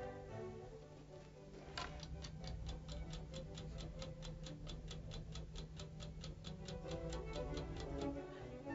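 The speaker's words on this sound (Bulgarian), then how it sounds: "Чувате ли тиктакането на часовника?" A wristwatch ticks steadily through a solid tabletop with an ear pressed to it, a long, even run of crisp, regular ticks, faint and close, over a low muffled hum.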